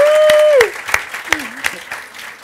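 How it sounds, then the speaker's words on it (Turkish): Studio audience applause on a Turkish late-night talk show, a burst of clapping with a bright sustained tone fading at first, then scattered claps and a voice trailing off. "Hanımefendiyi bir alkışlayalım."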